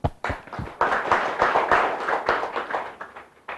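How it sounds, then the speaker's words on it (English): A talk on cycling in the Netherlands draws audience applause: sharp, separate claps start it, then it swells into dense clapping from a small crowd and tapers off near the end, with no voices over it. "Applause."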